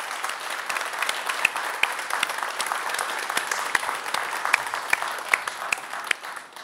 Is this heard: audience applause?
yes